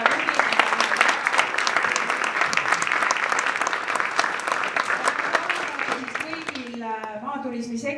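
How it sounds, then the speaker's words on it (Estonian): Dense, sustained applause from an indoor audience at a rural tourism association gathering, loud and even for several seconds, fading near the end as a voice begins speaking. "teeme kogu sektorile praegu suure aplausi"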